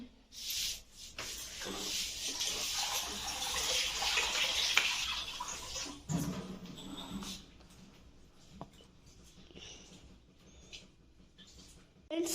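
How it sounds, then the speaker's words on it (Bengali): Rice is washed in water by hand, a faint sloshing and swishing that gives way to quieter, sparser water sounds. "এবার চালটা ধুয়ে নেবো চালটা ধুয়ে নিই"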